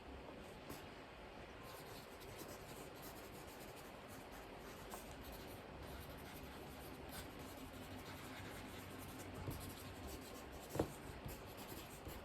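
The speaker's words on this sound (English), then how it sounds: "I'm going to try and write them all down together" A pen scratches steadily across notebook paper, soft and close, with a faint continuous rub and one small tap near the end.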